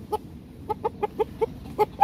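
A Hint (Indian game breed) rooster gives a run of short, clipped clucks, about eight in quick succession, close by against faint background noise.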